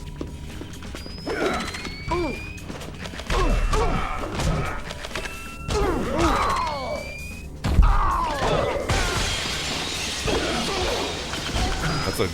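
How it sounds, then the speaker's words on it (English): Glass shatters in a GameCube video game, a bright crash burst near the middle followed by a lingering hiss of debris, set among other game thuds and effects. "That's a good glass shatter sound."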